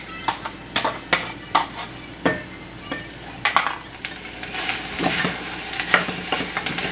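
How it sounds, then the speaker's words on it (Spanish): Onion fries in hot oil in a pot, a close sizzle broken by repeated scraping stir strokes and light utensil clinks against the pot. "Vamos a freír un poco nuestra cebolla."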